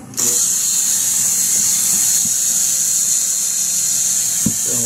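A rotary tool with a drill bit bores into wood with a loud, steady high-pitched whine that holds for several seconds, plus a few faint knocks near the end.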